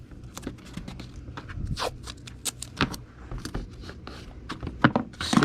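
Packing tape is pulled and pressed down onto a Gemini mailer holding a comic: close, zipper-like rips and scrapes come in short irregular bursts, with rustling handling between them.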